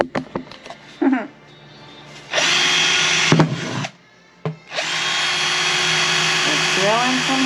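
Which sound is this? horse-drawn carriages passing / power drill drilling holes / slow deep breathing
power drill drilling holes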